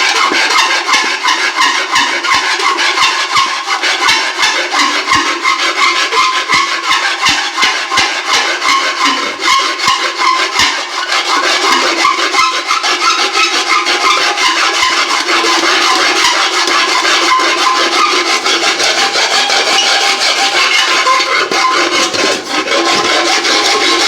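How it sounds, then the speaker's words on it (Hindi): A pressure cooker part is worked with a hand metal file, a continuous harsh rasping scrape repeated in fast steady strokes, close and loud for the whole stretch with no talking. "यहाँ पे हम फाइल मार देंगे और इसे हम सेट कर देंगे।"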